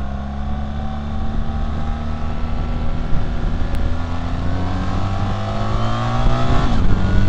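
A 2025 BMW R 1300 GS Adventure motorcycle rides along with a steady, loud engine drone and rising pitch as it accelerates, wind rush over it throughout, with no voices.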